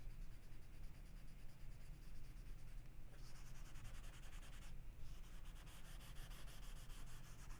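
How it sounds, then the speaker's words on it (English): A pencil drawing of a mountain valley is blended by rubbing across toothy paper, producing a steady, soft, close scratching hiss that continues almost unbroken, with brief pauses as the stroke shifts. "I need to blend this a little bit"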